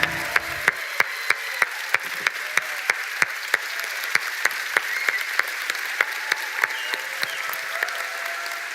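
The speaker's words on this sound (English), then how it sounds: "Please give me a round of applause." Live audience at an on-stage conversation event in Austin, Texas, giving a big round of applause: dense, loud clapping sustained throughout, punctuated by regular sharp claps near the microphone.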